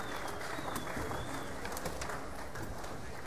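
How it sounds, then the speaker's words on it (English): Crowd at the Golden Shears shearing competition applauds the shearers, a steady, fairly faint patter of clapping that fills the hall evenly for the whole stretch, with no clear voices. "Give them all a big round of applause, ladies and gentlemen"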